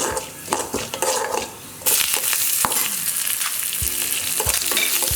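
Curry leaves, onion and garlic hit hot oil with urad dal, mustard seeds and cumin for horse gram chutney; a close, loud sizzle surges partway through, with spoon scrapes against the pan and no talk.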